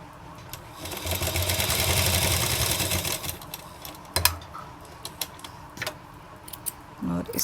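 A sewing machine stitches a diagonal seam on a wrap palazzo, whirring in a sustained run before stopping, followed by scattered clicks and handling sounds.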